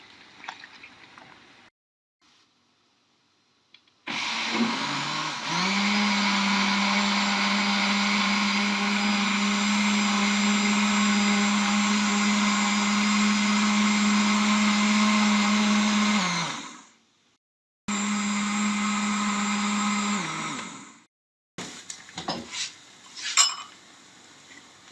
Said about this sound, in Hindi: थोड़ी सी लस्सी शामिल कर रही हूँ ताकि ये अच्छे से ब्लेंड हो जाए।